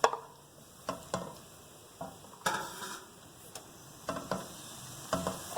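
Chicken and garlic frying in a pan, heard as soft sizzling under sharp, irregular clicks and scrapes of stirring, close and fairly quiet, with no talk.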